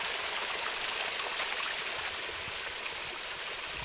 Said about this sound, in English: A couple more little waterfalls,